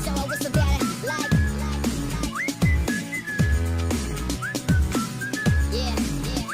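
Repeated rising whistles, like a person whistling at a girl, ride over a steady thumping music beat, recurring every second or so at a fairly loud level.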